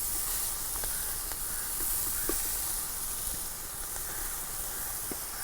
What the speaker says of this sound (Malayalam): ആ 1 കിലോ ഫ്രഷ് ആക്കിയിട്ടുള്ള ചെമ്മീൻ ഇതിലോട്ട് ഇട്ട് കൊടുക്കുക